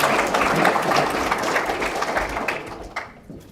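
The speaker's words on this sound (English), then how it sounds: "Now we can clap." An audience at a school pathway celebration claps in a sustained burst of applause that gradually thins and tapers off toward the end.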